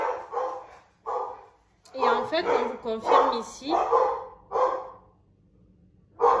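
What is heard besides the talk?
dog barking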